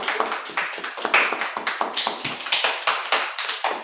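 A small group claps in quick, steady rhythm, crisp individual claps close by, with no voices over it.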